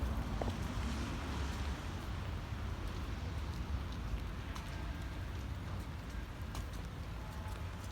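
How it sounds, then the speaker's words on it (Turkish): Rain falls steadily by the seaside at Akçakoca, a dense, even hiss of drops on surfaces with wind rumble against the microphone and no one talking. "Yağmurlu bugün hava."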